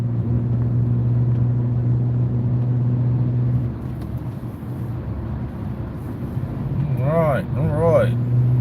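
A car drives at speed with a steady, loud low road and engine rumble heard from inside the cabin. The drone eases midway, and a voice speaks over it near the end.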